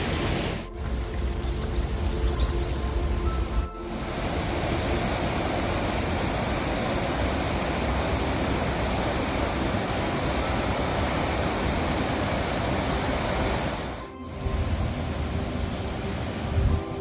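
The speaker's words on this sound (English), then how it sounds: "starting to see the waterfall, so I can hear it. It's cascading down here." Steall waterfall in a Scottish gorge roars as a loud, continuous broadband rush of cascading water, steady throughout with a few brief dropouts, no voices present.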